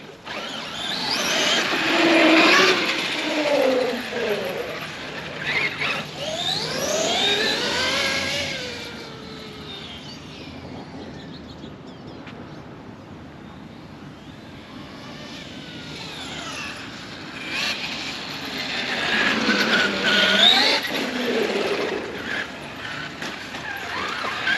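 A Traxxas Xmaxx RC monster truck tearing around a park, its electric motor whining in rising and falling sweeps, loud bursts of acceleration at the start and again near the end with a quieter lull between.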